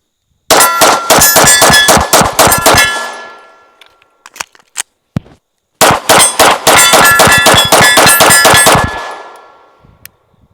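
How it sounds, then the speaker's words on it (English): A Springfield Armory Prodigy pistol fired at square steel targets: two rapid strings of loud shots, each paired with a bright ringing clang of the steel, separated by a short pause with a few scattered pings and clinks. "Let's go ahead and shoot some on this square steel here."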